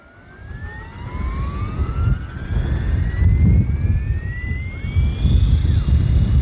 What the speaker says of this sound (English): We've got a nice steady spool up.